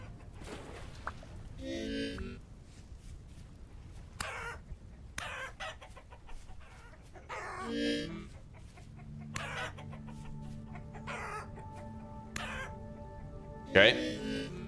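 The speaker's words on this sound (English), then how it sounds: "A family of fucking chickens." Chickens in the survival video game Vintage Story cluck in short scattered bursts with a crow-like call near the end, mixed with someone talking over them.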